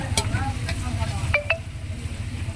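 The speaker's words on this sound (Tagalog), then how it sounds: "ginisa ko na yung sibuyas, bawang at luya" Onion, garlic and ginger sauté in a hot pan with a steady close sizzle, while a utensil stirs and scrapes and gives a few light clinks.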